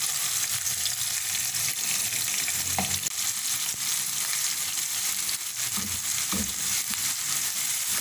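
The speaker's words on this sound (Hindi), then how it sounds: "तब इसको थोड़ी देर मज़ीद ऐसे ही फ्राई करेंगे, ये टमाटर ज़्यादा नरम पड़ जाए।" Tomatoes fry in a pan for a chicken moti pulao, giving a continuous close sizzle with occasional scraping stir sounds and no talking.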